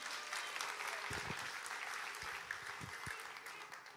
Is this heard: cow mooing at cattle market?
no